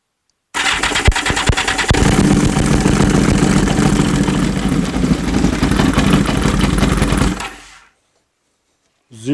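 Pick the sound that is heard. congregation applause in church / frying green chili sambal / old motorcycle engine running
old motorcycle engine running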